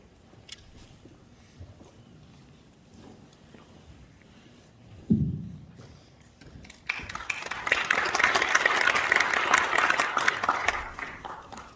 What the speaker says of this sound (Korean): 잠깐 인사 일어나서 인사하실 때 박수로 환영하겠습니다.